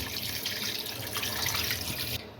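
Water poured into a pot of mutton for yakhni pulao, a steady splashing, gurgling stream that runs continuously, fairly close and loud, then stops abruptly near the end.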